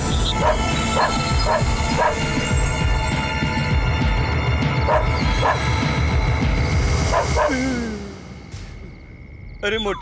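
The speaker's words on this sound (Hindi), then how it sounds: "ये कुत्ता क्यों भौंक रहा है?" A dog barks in repeated short bursts through a movie scene, with other sounds behind it, while someone speaks over it; the sound thins out near the end.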